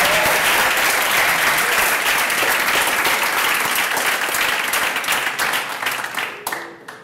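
A conference audience at a closing session applauds: dense, loud, sustained clapping from a large room that keeps a steady level for several seconds, then thins and fades out.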